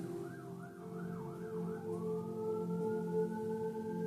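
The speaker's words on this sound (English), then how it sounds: "I know you hear the sirens." A wailing siren sweeps up and down in quick cycles, then shifts to a long rising tone, loud and steady over a low traffic rumble.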